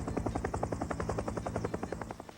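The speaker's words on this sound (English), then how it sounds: "hanging from this chopper, unloading sandbags" Helicopter hovering during a flood sandbag operation at a waterworks, its rotor chopping in a loud, steady rhythmic thump close by, with no talk.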